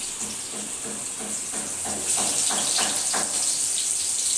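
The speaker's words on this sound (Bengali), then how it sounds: "এই আলু পটলগুলোকে প্রথমে ফ্রাই করে নেব।" Potato and pointed gourd pieces fry in hot oil, giving a steady bright sizzling hiss that swells slightly partway through, with soft rhythmic stirring or scraping underneath.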